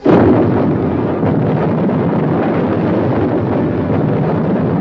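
Wartime dynamite sabotage explosion, a loud boom followed by a long rumbling roar of debris and blast noise on an old archival soundtrack.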